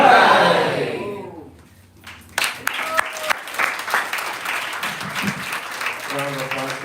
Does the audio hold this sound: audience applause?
yes